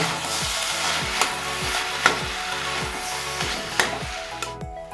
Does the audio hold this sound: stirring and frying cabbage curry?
yes